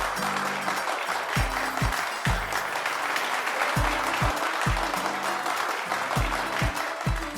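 A studio audience at an Odia reality show breaks into loud, sustained applause, a thick wash of clapping that carries on steadily while a low rhythmic music bed pulses underneath.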